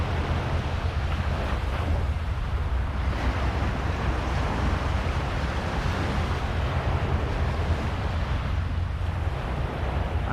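Waves wash in at Nongsa Beach at high tide, a steady, loud roar of surf mixed with wind buffeting the microphone, continuous throughout with no one speaking.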